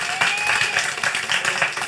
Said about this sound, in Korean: 우리 함께 영광의 박수 한번 올려드립시다.